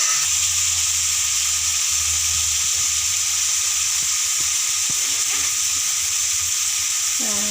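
Garlic paste sizzles steadily in a hot frying pan, a constant bright frying hiss with a few soft scrapes of stirring and a low hum underneath, no one talking.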